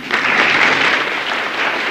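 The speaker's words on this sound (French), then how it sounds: "Petit applaudissement." Audience breaking into applause, a brief, loud and steady patter of many hands clapping with no voices over it.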